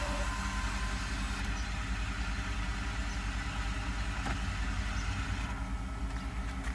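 The engine of a Mercedes S600 idles steadily after its throttle bodies were rebuilt, a low, even, continuous rumble heard close up with no talk.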